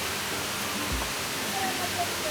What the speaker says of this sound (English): So these falls, they increase when the rainy season starts.